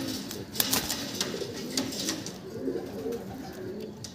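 Madras pigeons in a loft coo softly and repeatedly at close range, with light fluttering and rustling in the background.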